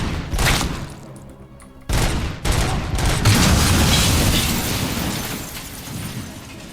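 A grenade shot out of the air explodes in Robocop: Rogue City, a loud blast followed by another burst and a long rumbling, crackling decay amid ongoing gunfire, with no voices.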